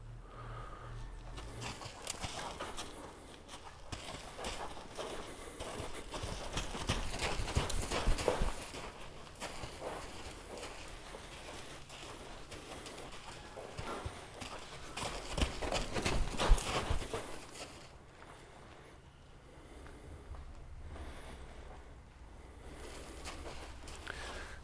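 Hooves of a half-blind mare clip-clop on the ground of a round pen during haltering, a steady run of close, moderately loud steps with occasional snorts and sniffs, fading quieter toward the end.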